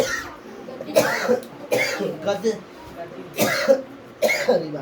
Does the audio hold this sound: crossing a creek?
no